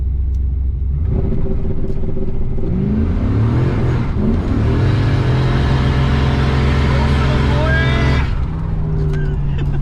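An Oldsmobile Cutlass with a boosted LS engine launching off a two-step rev limiter in sand, a loud close engine roar rising in pitch as it spins, then dropping back to a rumbling idle.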